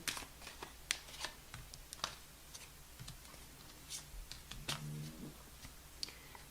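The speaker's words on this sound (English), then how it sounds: "One more shuffle." A deck of tarot cards is shuffled by hand, with quick riffling flutters and crisp taps in irregular bursts, close and fairly quiet, with no voices.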